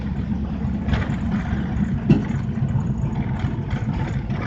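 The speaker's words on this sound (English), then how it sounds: "show you that the car runs and drives" An engine drones steadily from inside a moving car, a low continuous rumble with faint rattles and one brief knock, no one speaking.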